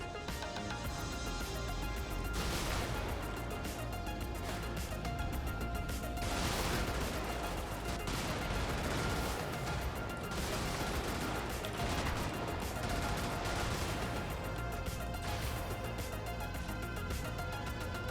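Sustained, loud gunfire from the top-down mech video game Brigador rattles almost continuously, dense bursts of machine-gun shots blending with explosive crashes and heavy impacts, with no pauses and no voices.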